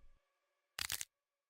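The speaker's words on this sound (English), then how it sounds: "making a cracking sound as they go." A single short, sharp crack bursts out against near silence, brittle and bright, lasting well under a second.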